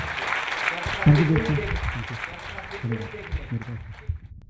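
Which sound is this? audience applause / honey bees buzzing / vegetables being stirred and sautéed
audience applause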